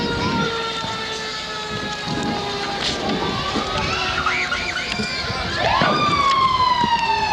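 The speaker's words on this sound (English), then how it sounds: "And you hear some more sirens in the background." Wailing emergency sirens rise and fall over a street parade crowd, several overlapping tones with one close siren sweeping up near the end, amid a steady rumble of outdoor noise.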